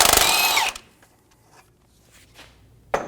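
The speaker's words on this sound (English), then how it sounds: "Using a 21mm socket, remove the nut for the drag link." Impact gun spinning a 21mm socket off the drag link nut on a 2019-2025 Ram 2500, a loud close burst of about half a second at the start, then a quiet stretch with faint clicks and one sharp knock near the end.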